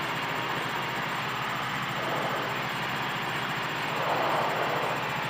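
Tecnam P2008 light aircraft piston engine droning steadily from inside the cockpit after the carburetor heat check, a continuous loud hum with slight rise in intensity toward the end.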